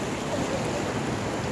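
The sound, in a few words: large river flowing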